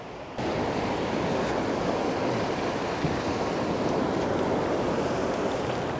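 Ocean waves wash continuously onto the shore with a steady roar, close and loud, with some wind buffeting the microphone.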